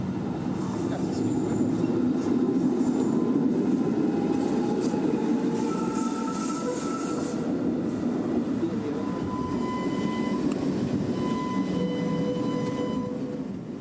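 New Orleans streetcar passing beside the Mississippi riverfront, a steady close rumble of rolling wheels and rail noise with faint metallic squeals and tones, holding loud for the whole stretch before easing slightly at the end.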